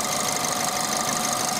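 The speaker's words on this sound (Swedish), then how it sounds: "motor som tickar tyst" A VW Polo 1.4 TSI with a transverse 1.4-litre engine idles with a steady, even hum and a light, fast ticking throughout, heard close up with no talk.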